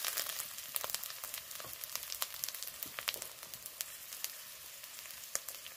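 Green chillies and grated ginger fry in oil for a red lentil dal with bottle gourd leaves, giving a soft sizzle broken by frequent sharp pops and crackles.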